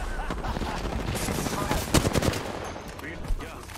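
Flatline assault rifle fire in the video game Apex Legends, heard as rapid bursts of shots over busy game sound with a couple of sharper reports near the end; no speech.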